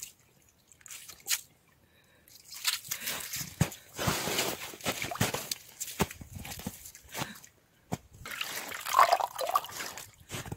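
Meltwater draining away on a rural property, gurgling and dripping as it trickles down a drain in uneven spurts after a quiet start, close by, with occasional faint movement noises.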